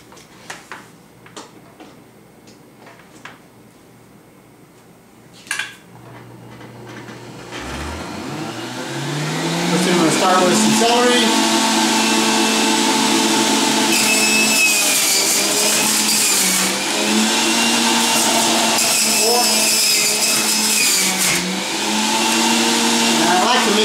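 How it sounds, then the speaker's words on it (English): A fast juicer spins up with a rising motor whine and then runs loud and steady, its pitch dipping slightly as greens and ginger are fed through; scattered knocks and handling sounds come before it starts. "I'm going to put them in the juicer. This is, of course, a fast juicer. It's going to go fast"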